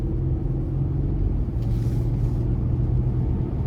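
A 2022 Chevrolet Colorado ZR2 Bison pickup truck drives along, heard from inside the cab as a steady low engine and road rumble with a constant drone, unbroken and without talk.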